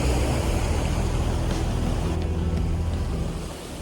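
A small boat's engine drones steadily at a beach, mixed with a broad wash of surf and wind, loud and continuous before easing slightly near the end.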